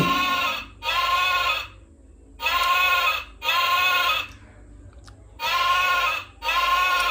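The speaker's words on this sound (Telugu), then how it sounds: "'షీప్'." A kids' toy rabbit phone plays a recorded sheep bleat three times, each loud, buzzy and about a second long, with short silent gaps between them.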